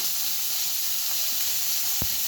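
Fish frying in a pan just after being turned, a steady close sizzle and hiss filling the scene, with one brief clink of the utensil near the end.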